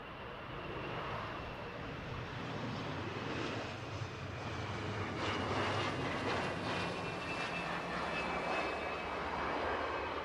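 A Loganair Embraer ERJ145 jet arriving at Manchester Airport from Aberdeen, a steady broad engine roar with a whining tone, loud and sustained throughout.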